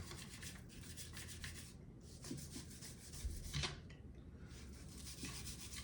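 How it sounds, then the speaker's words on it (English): Quiet, steady scrubbing inside a Zastava M70 AK-47 rifle during cleaning, a soft continuous brushing rasp with a few faint metallic knocks; no voices. "Now that we're scrubbing the inside"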